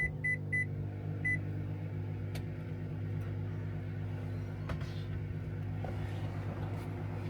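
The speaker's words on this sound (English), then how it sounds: "Now I just need to microwave." A microwave oven hums steadily while it heats rice and minced meat, a low, even drone that runs throughout, with a few short beeps at the start.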